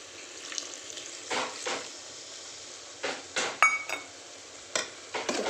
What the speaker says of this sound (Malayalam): ഇനി തേങ്ങാപ്പാൽ ഒഴിച്ചു കൊടുക്കുകയാണ്.